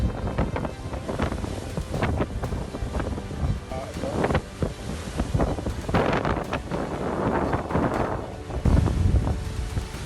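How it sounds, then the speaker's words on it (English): Storm winds from Typhoon Mangkhut in Hong Kong buffet the microphone with loud gusting roars and heavy surf crashing, a dense, turbulent rumble that surges and fades throughout. "The wind howled and the sea roared."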